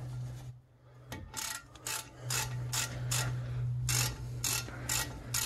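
A ratchet tightens the caliper bracket bolts on a 2000 Toyota Sienna, sounding as repeated close, sharp clicking strokes in a regular rhythm over a low steady hum.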